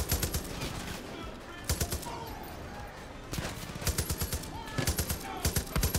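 Gunfire in the game Far Cry 5 comes as rapid, loud automatic bursts, three or four clusters of quick shots separated by brief lulls over steady game ambience.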